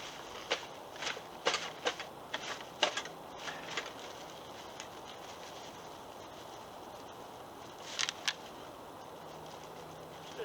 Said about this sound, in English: I'm going to tie this thing up.